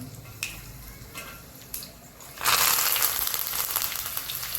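A few quiet clicks and taps, then a sudden burst of loud sizzling as curry leaves hit hot oil, crackling steadily to the end.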